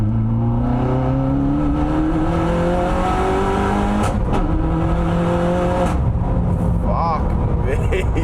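A Peugeot 308 GTI track-spec car accelerates hard on a circuit, its engine note rising steadily through gears with brief shift breaks, loud and close over wind and cabin noise.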